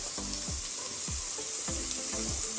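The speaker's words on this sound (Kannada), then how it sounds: "ಇತ್ತೆ ನಮ್ಮ ನೀರುಳ್ಳಿ ಫ್ರೈ ಮಲ್ಪುಗ ಇತ್ತೆ ಬೆಳ್ಳುಳ್ಳಿ ಪಾಡ್ಗ" Onion, garlic and ginger frying in a pan for mushroom Manchurian, a steady close sizzle with several rhythmic stirring scrapes and no talking.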